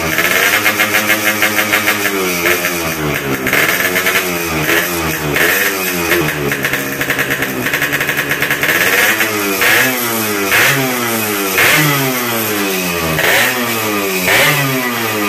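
A 2002 Yamaha RX-King motorcycle engine revs repeatedly through a loud, open, hollowed-out stock exhaust, rising and falling in quick bursts, close by with no talking.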